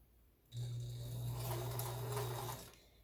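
A Kenmore sewing machine runs a zigzag stitch at width 5, a steady close motor whir with a rattling needle mechanism lasting about two seconds between quiet pauses.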